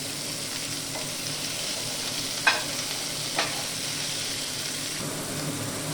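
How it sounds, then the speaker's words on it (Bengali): Onion frying in a pan with chopped tomato and green chilli, a steady close sizzle running throughout with two sharp stirring scrapes near the middle. "পেঁয়াজটা লাল লাল করে ভাজা হয়ে গেলে এবার আমি এর মধ্যে যেটা দেব সেটা হচ্ছে টুকরো করে রাখা টমেটো এবং কাঁচা লঙ্কা"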